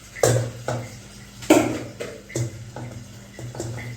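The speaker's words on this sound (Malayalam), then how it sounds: "ഇനി ഈ ചോറ് നമുക്ക് ഈ ബീഫിലോട്ടേക്ക് ഇടാം" Cooked rice is tipped from a metal vessel into a pot of beef for beef mandi. Several sharp clanks and scrapes of metal on metal ring out close and fairly loud, with short pauses between them and no talking.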